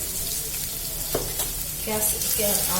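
Capsicum being stirred into brinjal frying in a pan for brinjal palya, giving a steady close sizzle with a few brief scraping stir strokes near the middle and end.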